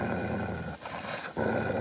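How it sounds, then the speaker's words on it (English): A pet dog named Holly growls steadily and fairly close over a guarded toy duck, the low rumble breaking off briefly in the middle before resuming. "She's growling."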